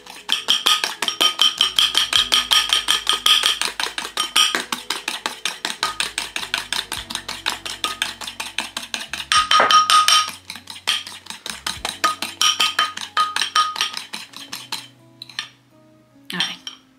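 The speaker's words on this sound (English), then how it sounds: "you want to beat it until it gets to some kind of like a pale yellow foam." Eggs, sugar and salt beaten in a bowl for a French strawberry custard tart: a fast, steady clatter of the whisk against the bowl, close and continuous, pausing briefly before resuming, then thinning out at the end.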